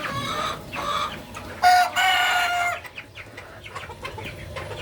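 Hens cluck nearby in short, loud bursts after laying eggs, with one drawn-out call standing out before quieter clucks trail off.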